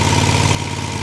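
Crane engine idling nearby while steel beams are lifted, a steady mid-to-low droning rumble that drops slightly in level partway through, continuous with no talking.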